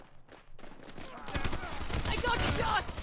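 Rapid gunfire crackles in Call of Duty Mobile, starting faintly and swelling into dense, loud automatic bursts, with a voice briefly speaking over the game sounds.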